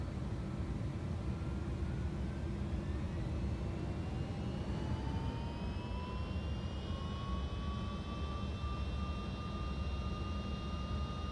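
MD-11 jet engines roar steadily during the takeoff roll in the X-Plane 12 flight simulator, a constant broadband rush with rising whine tones climbing as power builds, with no talk over it.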